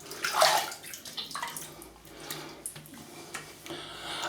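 A boar-bristle shaving brush rinsed under running tap water, a short close splashing flow with a brief louder burst near the start, then softer trickling.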